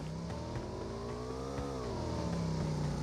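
A motorbike engine in the PUBG video game drones steadily with a rising then falling pitch as it approaches and passes, a sustained moderate hum with no talk.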